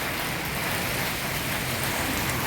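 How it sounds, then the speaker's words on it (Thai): Heavy rain pours down in a steady, dense hiss that holds evenly throughout, with no voices or other sounds rising above it. "บรรยากาศฝนตก"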